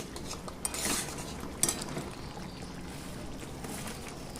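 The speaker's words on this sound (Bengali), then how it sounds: "এবার আমি একটু কর্নফ্লাওয়ার গোলা জল এর মধ্যে দিয়ে দিচ্ছি গ্রেভিটা ঠিক করার জন্য।" Cornflour slurry is poured into a simmering chilli paneer gravy in a pan and stirred in, giving a few close metallic clinks of a spoon against the pan over a steady bubbling, scraping background.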